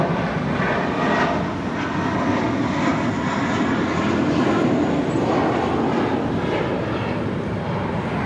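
An American airliner passes at Los Angeles International Airport with a loud, sustained jet engine roar, close and steady throughout, with no voices over it.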